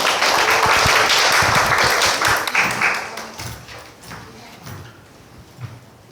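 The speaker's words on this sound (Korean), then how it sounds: "박수로 맞이해 주세요." An audience at an executive appointment ceremony claps for the incoming director, a dense burst of applause that holds strongly for about three seconds, then fades into scattered claps and quiet.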